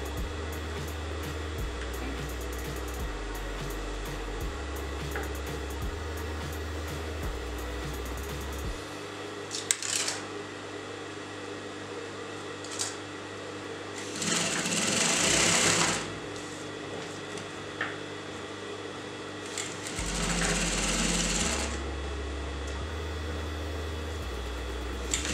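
A sewing machine stitches a designer blouse in steady close bursts of whirring motor and needle chatter, separated by brief pauses. The run grows louder toward the middle and there is no speech.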